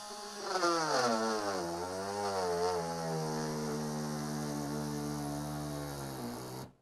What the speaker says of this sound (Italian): Vediamo massima velocità. Quarta velocità.